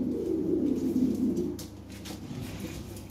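European Lahori pigeons cooing up close, a low throaty warbling run of coos that fades out after a second or two, with faint background noise.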